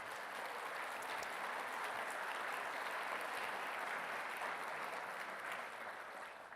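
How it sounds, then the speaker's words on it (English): Steady applause from a conference audience honoring organizers at the HEDNA event in Atlanta, a dense, even wash of clapping that holds throughout and fades slightly at the end. "So I want to give a big round of applause"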